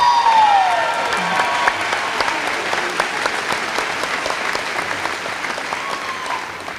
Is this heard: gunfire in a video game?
no